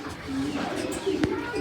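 A pigeon coos at a loft on a 350 km race day, a low, soft, repeated cooing close by over faint background noise, with a brief sharp click near the end.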